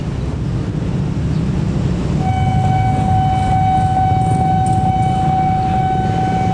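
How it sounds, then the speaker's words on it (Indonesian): A KRL TM6000 electric commuter train passes a freight train at a level crossing, a loud steady rumble joined after a couple of seconds by a sustained, high tonal whine that holds to the end. "KRL TM6000 bersilangan dengan kereta api barang ya"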